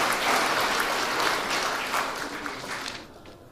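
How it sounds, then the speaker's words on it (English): A crowd at an evening sister-city reception gives a warm round of applause, steady clapping that tapers off and fades toward the end. "Please let's give them all a warm round of applause"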